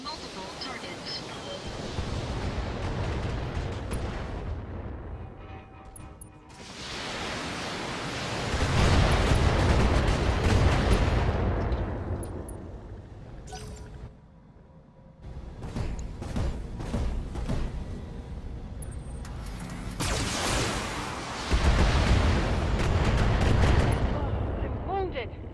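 Mech weapons fire and explosions from the Battletech video game, a dense, loud barrage of booming blasts that swells in repeated waves, with game voice lines heard over the action.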